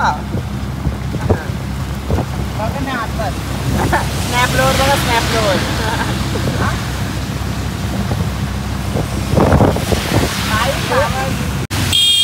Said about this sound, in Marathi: एवढा जोरात पाऊस आहे बाबा